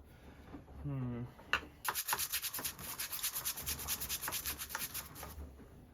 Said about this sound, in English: It's just grinding and making flour on one side and lubricating it.